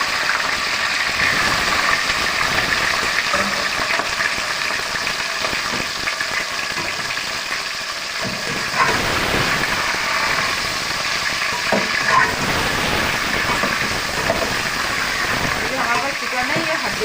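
Bone-in chicken frying in hot oil in a karahi for green chicken curry gives a loud, unbroken, rain-like hiss and crackle that holds steady throughout, close up.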